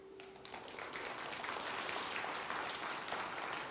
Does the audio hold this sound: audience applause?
yes